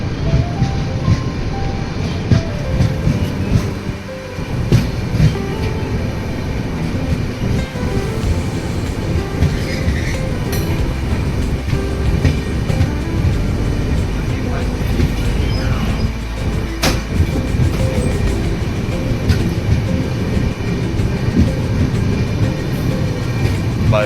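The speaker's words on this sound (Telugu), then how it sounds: "స్పీడ్ అందుకుంటుంది ట్రైన్." Rumbling inside a sleeper class coach of an Indian passenger train as it pulls out of Venkatagiri station and gradually picks up speed, a steady dense low roar with faint rattles and clicks running throughout.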